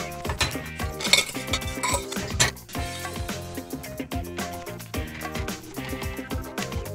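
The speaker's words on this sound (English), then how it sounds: "Get a touch of butter. Let's mix in a little rice here." Rice and butter stirred in a pan in an RV kitchen, with a steady run of close metallic scrapes and clinks from a utensil against the cookware. No voice is heard.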